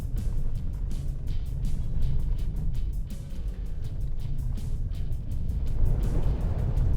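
A Ford Bronco grinds along a muddy, rutted woods road with a steady, close, rumbling engine and broadband road roar, broken by quick rhythmic bumps and knocks as the truck crosses ruts and puddles.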